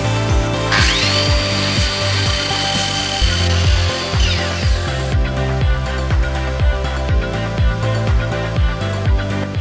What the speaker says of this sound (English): Finally, I cut a 45-degree bevel on the bottom to make it easier to grab.